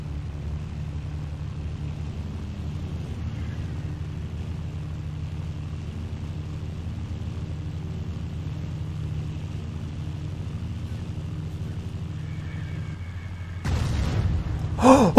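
A propeller airplane flying in the World War II game Battlefield 1942 drones as a steady low engine rumble that persists throughout, followed near the end by a short loud burst.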